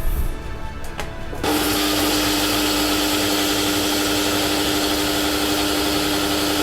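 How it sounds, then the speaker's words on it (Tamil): A kitchen mixer grinder runs at full speed grinding soaked adai batter with chili, garlic and ginger, starting up after a brief quiet moment, then a loud, steady whirring roar that continues without a break. "இப்போ 4 மணி நேரம் ஊறிட்டு இதை மிக்சியில் போட்டு அரைச்சி வச்சுக்கணும்"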